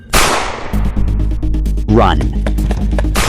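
A loud sharp blast opens, followed by a quick series of sharp cracks like gunfire, with a voice shouting once midway.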